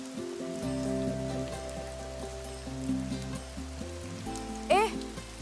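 Steady rain falls in a film scene, a continuous patter that runs under music and tones throughout, with a brief sharp rising sound near the end.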